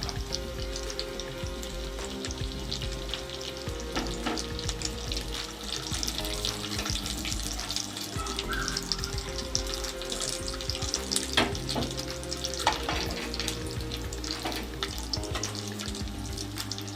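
Bread and potato pakoras fry in hot oil with a steady, dense hiss and scattered crackles that run unbroken for several seconds. No voices are heard.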